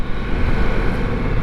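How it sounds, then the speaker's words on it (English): A 2023 Ducati Multistrada V4S engine roaring low and rough as the revs drop just before the bike stops, a loud, close, rumbling growl with no voices. "There's a little roar when just before coming to a stop, when the engine is lowering in the RPM."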